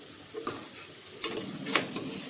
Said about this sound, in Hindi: इनको भी हम 1 से 2 मिनट भून लेंगे सब सब्जियों के साथ मिक्स करते हुए